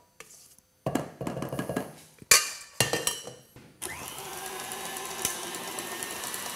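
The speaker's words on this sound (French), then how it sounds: "je mets ma meringue italienne dans ma base de crème au beurre et je vais remettre le tout à fouetter maintenant au batteur" A few clatters and short bursts of handling, then an electric stand mixer settles into a steady whirring hum as it whips Italian meringue into a buttercream base for a praline yule log.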